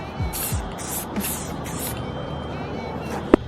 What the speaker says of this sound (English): Let's go ahead and spray some clear.